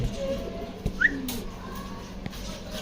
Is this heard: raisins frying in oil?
no